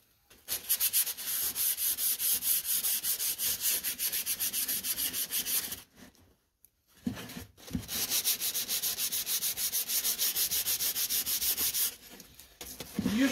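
Sandpaper rubs back and forth across wood in quick, rhythmic strokes, close and steady, with a brief pause midway before the scraping resumes.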